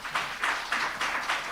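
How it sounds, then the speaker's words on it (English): Applause from an audience at a Mafori Cup media briefing, steady clapping that swells in a few soft waves over a short stretch, heard from a distance with no voices. "A round of applause for Mr."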